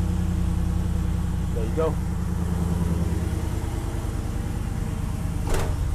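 Car engine idling down, a steady low hum running the whole time with someone speaking briefly over it.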